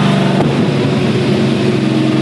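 A straight-piped Dodge Charger with a Hellfire engine revs loud and close, its dense, raw exhaust roar running steadily through the whole stretch.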